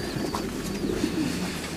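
Pigeons coo softly and steadily in a breeder's aviaries, a low murmuring chorus heard from close by over faint ambient noise, with no talk.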